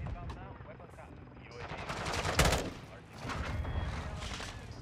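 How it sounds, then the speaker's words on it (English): One-burst M16 fired in the video game Modern Warfare 2, heard as rapid gunfire bursts with one sharp loud crack in the middle over busy game noise and a talking player. "The one burst M16. Overpowered and shit. No recoil."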